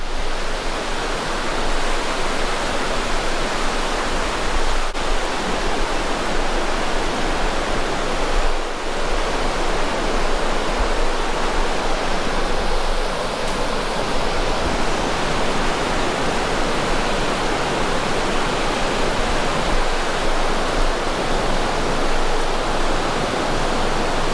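Rushing river water flows beneath a suspension bridge at a cold-weather campsite, a loud, steady broadband wash that never lets up, with no voices over it.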